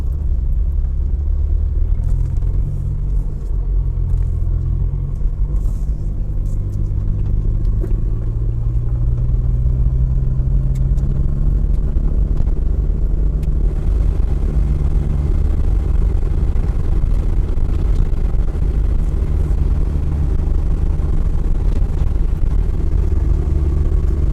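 A car rumbles along a bumpy, hilly country road in St Elizabeth, Jamaica, with a continuous low engine drone and road noise, occasional rattles and clatter, heard from inside the vehicle.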